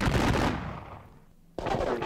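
Massed musket fire in a Thirty Years War battle game at Breitenfeld, a loud, continuous rattling volley that fades out, then a second dense burst of gunfire breaks in abruptly.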